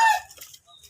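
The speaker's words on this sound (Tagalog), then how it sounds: "Ang dami niyang mga manok." A chicken clucks close by, a short burst of throaty calls that fades into quiet.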